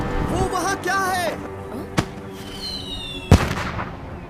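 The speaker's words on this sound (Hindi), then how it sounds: "अब पटाखों से खेलना बंद करोगे?" Sharp firecracker bangs go off, one around midway and a louder one later, over a busy background with a voice and whistling tones.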